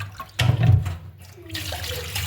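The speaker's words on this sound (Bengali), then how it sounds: "প্রথমে মাংসটাকে ভালো করে ধুয়ে নিই বুঝলেন তো" Running tap water pours over raw meat as it is washed in a kitchen sink, a loud splashing gush early on that settles into a steadier, quieter flow, with no talking.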